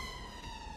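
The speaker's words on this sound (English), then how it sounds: "That's a siren." A siren wails faintly in the distance, its steady tone heard briefly with no talking.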